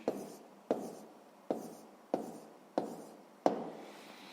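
A pen writes out a map scale on paper in six evenly spaced strokes, each a soft scratch that starts sharply and fades, heard close and quiet.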